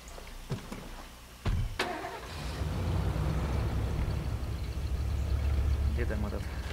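A car engine in State of Decay cranks with a sharp click and catch, then settles into a loud, steady rumbling idle. Someone talks over it.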